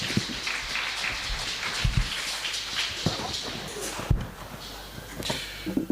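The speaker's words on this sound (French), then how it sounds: "Une acclamation pour notre Dieu" A church congregation at Sunday worship breaking into applause and cheers to acclaim God, dense crowd clapping with bursts and shouts filling the room for several seconds.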